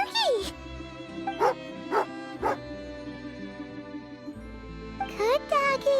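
A dog in the video game Genshin Impact gives several short yips and barks, some rising into whines. They are spaced out over light chiming game sounds.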